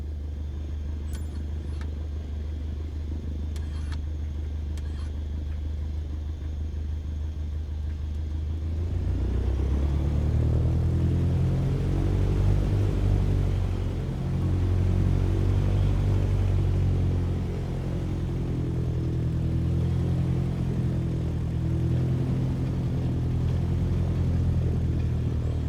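Low, steady engine rumble of a light aircraft taxiing on the ground in a flight simulator game, holding quietly at first and then swelling into a fuller, louder drone that stays constant with no talk over it.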